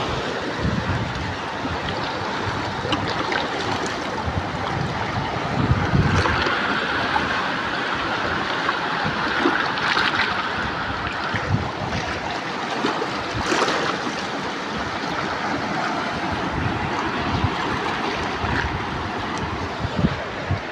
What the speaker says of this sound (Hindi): इस तरह के पानी की आवाज़ें आ रही है